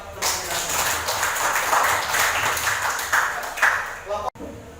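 Students clap for the first group in a classroom lesson, dense steady clapping from many hands over several seconds, with voices mixed in and an abrupt cutoff near the end.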